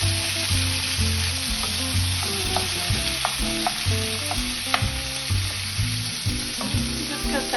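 Four tomatoes cooking in a pan with half a pepper, a loud, even sizzle broken by frequent spatula scrapes and stirring knocks, heard close with no talking over a constant music bed.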